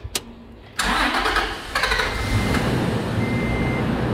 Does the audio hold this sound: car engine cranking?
yes